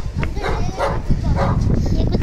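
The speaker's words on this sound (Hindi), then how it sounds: "ये कुत्ता तो भौंकते ही रहता है जब ना तब।" A dog barks and yips repeatedly nearby outdoors, with short sharp calls that overlap a person talking.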